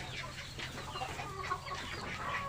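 Rhode Island Red laying hens in straw-bedded housing cluck and murmur steadily together, a continuous close flock chatter with a few sharper calls rising above the busy background.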